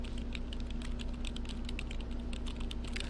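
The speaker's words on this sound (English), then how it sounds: "it's just me typing up there and not seeing it" Steady, rapid typing on a computer keyboard during a Sims 3 game session, with continuous clicking key presses over a constant low hum.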